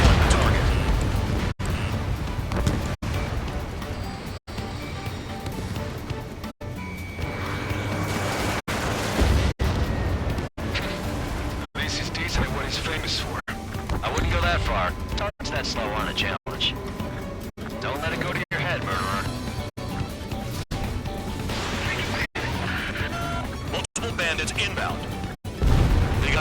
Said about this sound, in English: Enemy is firing. Focus on destroying the target.